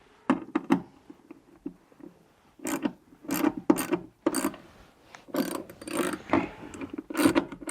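8mm seat belt retention bolt being run in on a Saab 9-3, close ratcheting and rasping clicks in short bursts separated by brief pauses.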